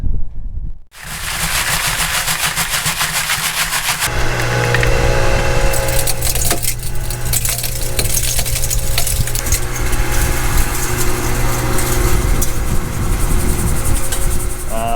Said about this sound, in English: here's the little impact mill we're gonna be feeding the material into